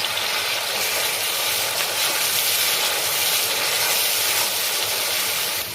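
Steady, loud, broadband sizzle and hiss as coriander, cumin and chilli paste hit a hot pan while cooking soya kofta curry, continuing unbroken with no voices.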